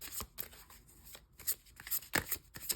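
A deck of tarot cards being shuffled by hand gives quick, close, papery riffles and slaps in irregular bursts, some louder snaps standing out among softer flicks.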